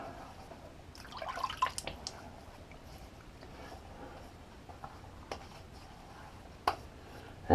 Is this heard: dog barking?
no